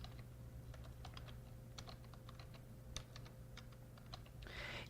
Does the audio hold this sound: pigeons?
no